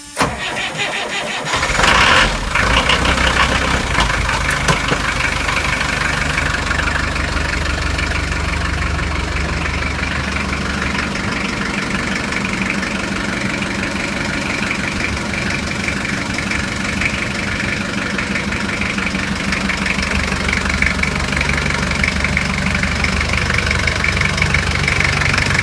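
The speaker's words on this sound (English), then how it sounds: "And we'll start the engine." A boat engine primed with starting fluid cranks briefly, catches and settles into a steady, close, rumbling idle with a slight knock that carries on unbroken.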